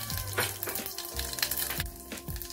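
Half a spoon of cumin seeds sizzle in hot oil for a Punjabi-style Kasturi chicken curry, a soft, close crackle of popping and hissing with small irregular bursts throughout.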